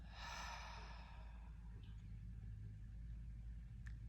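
A deep exhale during a seated yoga practice, a soft breathy rush in the opening second or so that fades out over a steady low background hum.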